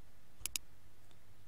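Two quick, sharp computer mouse clicks close to the microphone while Virtual DJ software is being used, then quiet.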